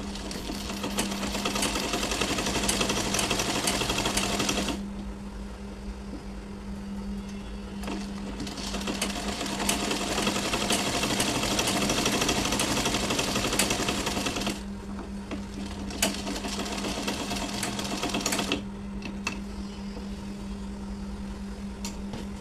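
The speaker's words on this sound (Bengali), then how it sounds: "ঠিক করার পর এখন সেলাই করে নিতেছি।" A home sewing machine stitches fabric in long, steady runs of rapid mechanical chatter, stopping briefly between bursts, close and loud with a constant hum beneath.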